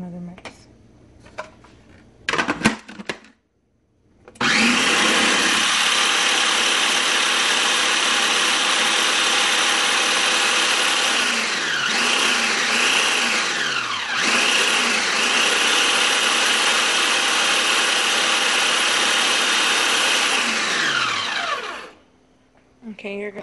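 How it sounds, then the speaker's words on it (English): A blender mixes chocoflan batter with cream cheese in a loud, continuous whir that runs for about seventeen seconds after a brief start, then cuts off. "And give it another mix."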